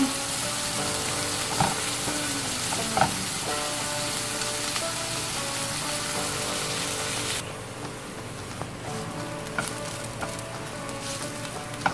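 Chopped onion fries and softens in a pan for a ground-beef taco filling, giving a steady, dense sizzle close to the mic that drops slightly in brightness partway through, with occasional stirring clicks and no talk.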